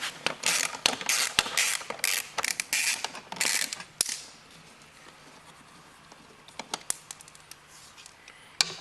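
A 3/8-inch ratchet fitted with a 10 mm socket clicks in quick bursts of pawl ratcheting while working on a John Deere lawn tractor, then slows to sparse, softer clicks.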